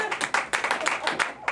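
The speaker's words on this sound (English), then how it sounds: "big round of applause for Richard." Wedding guests at an Elvis-themed ceremony clapping in a lively, uneven rhythm of distinct claps, fairly close, over a murmur of voices.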